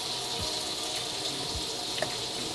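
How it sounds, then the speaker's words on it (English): Hot tap water runs steadily into a steamer pot at a kitchen sink, a continuous close rushing stream with faint knocks underneath, no talking. "I fill up my steamer pot. And I'd say I fill the pot about a quarter way with hot water."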